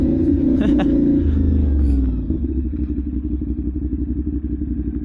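A CFMoto 450NK motorcycle with an aftermarket exhaust rumbles loudly up close. The engine revs briefly, then settles into a steady, throbbing idle.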